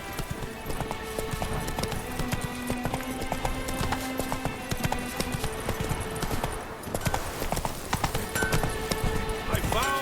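Roach, the horse in The Witcher 3, gallops in a steady drumming rhythm of hooves, close and continuous, under a game music score, with a voice speaking over it.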